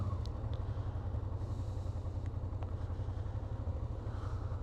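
A Honda Transalp 650 motorcycle rides through traffic on a road trip in Norway, its engine giving a steady low drone that stays faint and constant throughout, with no talking.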